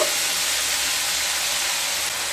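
Spices frying with cashew and poppy seed paste for vegetarian doodh potol give off a steady, close sizzling hiss that carries evenly from start to finish, with no talking.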